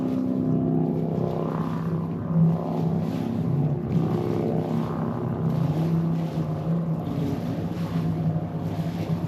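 A motorboat on a lake runs at full throttle and circles in donuts, its engine a loud, steady drone with a continuous rumble that rises and falls slightly across the whole stretch.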